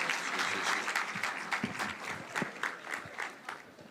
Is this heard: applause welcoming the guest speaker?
yes